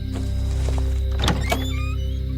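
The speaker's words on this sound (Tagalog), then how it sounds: "Agad bumukas ang pinto" A door swings open with a soft thunk and a brief scraping rattle midway, close by, over a steady low hum with no talking.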